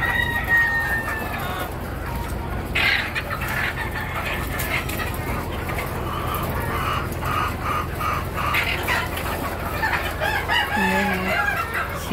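Chickens on a poultry farm cluck and crow in a busy, continuous chorus, with some birds close and others further off, amid general barn noise.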